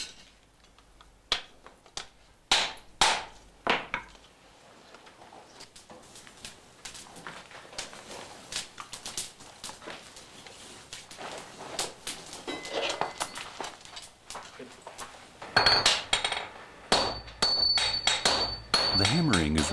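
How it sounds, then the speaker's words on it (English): Swordsmiths strike red-hot tamahagane steel on an anvil with ten-kilo hammers, heavy metallic blows landing in irregular bursts, spaced at first and then quicker and denser, with ringing clangs toward the end. "holds it on the anvil while his disciples hammer it flat using 10-kilo hammers"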